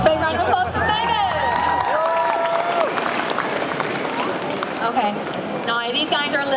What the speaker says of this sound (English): Big round of applause for Megan.